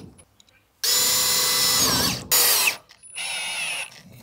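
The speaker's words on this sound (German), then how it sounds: "Dann mach da mal jetzt eine Schraube rein." A power drill drives a screw in bursts: a long loud whine, a short second burst, then a steadier run with a high pitch, close by with brief pauses between.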